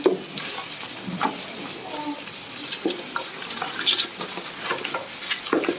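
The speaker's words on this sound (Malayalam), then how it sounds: "അപ്പോൾ നമ്മൾ കപ്പയും എല്ലാം കൂടി ഇട്ട് മിക്സ് ചെയ്യുവാണേ" Tapioca (kappa) biryani stirred and mixed in a pan, a steady wet scraping and sizzle with irregular spoon knocks, close and fairly loud, with a little background chatter.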